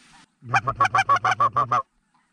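Snow geese honking close by at a duck and goose hunt, a rapid series of about eight loud, evenly spaced nasal honks, then silence.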